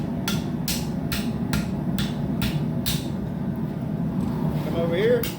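A blacksmith hammers hot steel on an anvil while forging a split cross and horseshoe piece, striking seven sharp ringing blows in an even rhythm, followed by a short scrape; a workshop hum runs underneath.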